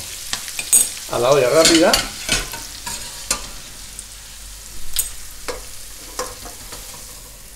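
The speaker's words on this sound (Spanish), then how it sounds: "Continúa rehogando la verdura, ya está pochada" Vegetables sautéing in a frying pan crackle and sizzle steadily while a utensil stirs and scrapes, with clanks against the pan, a brief squeaky scrape, and a few words spoken over the cooking.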